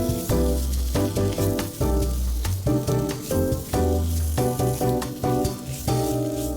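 Sliced sausage and a spoonful of flour are stirred in a hot pan, a sizzling hiss running beneath loud rhythmic background music that dominates the mix.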